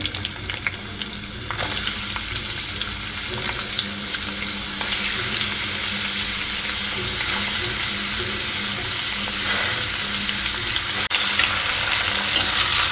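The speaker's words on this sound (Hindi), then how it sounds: "तो थोड़ा सा सॉफ्ट करना है कैरी को ऑयल के अंदर" Raw mango pieces sizzle loudly in hot oil in a pan, a steady dense crackle that carries on without a break, with no talking over it.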